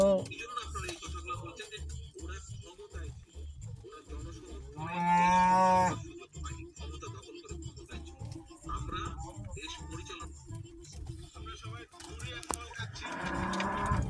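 A cow gives one long, loud moo partway through, with another starting at the end, over steady background chatter and rhythmic noise.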